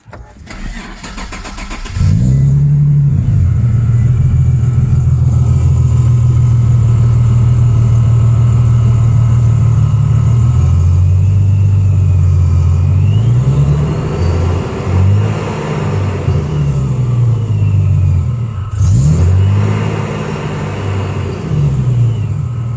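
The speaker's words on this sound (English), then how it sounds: "let's go ahead and start the car." An Infiniti G37 with freshly tightened torque converter bolts cranks briefly, catches and settles into a loud, steady idle, with a few rises in engine pitch as it runs up close.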